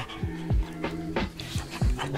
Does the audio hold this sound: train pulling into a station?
no